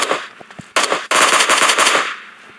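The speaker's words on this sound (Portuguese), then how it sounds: "Toma, enchi você de tiro." Automatic gunfire in the video game PUBG, sustained loud bursts of machine gun fire with a brief pause near the start and another short break before a long continuous volley that fades out.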